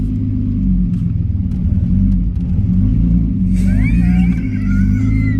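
A turbocharged V6 Mustang drives along with a steady low engine rumble that swells slightly as it accelerates, while higher whining turbo tones rise near the end.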